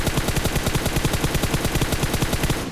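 Rapid automatic gunfire from the mobile battle royale game PUBG New State, a loud, dense, continuous burst of evenly spaced shots lasting a few seconds with no talk.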